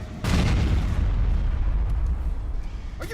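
A grenade explodes in a loud, close blast that starts abruptly and fills the scene with a heavy rumbling roar that slowly thins out over a few seconds.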